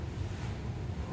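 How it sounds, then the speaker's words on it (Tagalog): Strong wind roars outdoors in Tokyo, a continuous heavy rumble buffeting the microphone with no letup. "Lakas kasi ng hangin. Grabe yung hangin."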